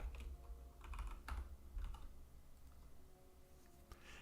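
Quiet keystrokes clatter on a computer keyboard at a desk, a short irregular run of soft taps and a few sharper presses, faint and close with no talking.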